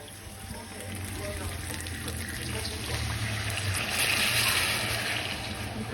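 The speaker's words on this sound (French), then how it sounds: "Je vais retourner ajouter de l'eau." Water poured into a pan of sizzling meat, a steady hissing and bubbling wash that grows a little louder toward the end, with a person talking over it.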